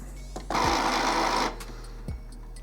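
A mechanical whirring burst from an Epson Expression Home XP-442/XP-445 inkjet printer during a printhead cleaning cycle, lasting about a second, with faint clicks before and after it, fairly close and moderately loud.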